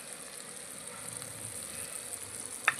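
Fresh fig curry, cooked like meat with tomato, salt, turmeric and ground ginger, garlic and chilli, sizzles and fries quietly in a pan, a steady soft crackle with a brief scrape near the end.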